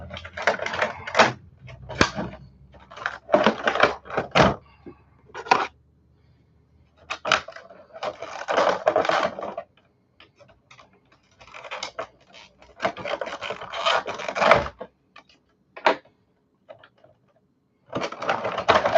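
Scissors snipping the twist ties on a toy's packaging, bursts of crisp clicks, rustling plastic and cardboard handling coming in clusters with short pauses, close by and with no talking.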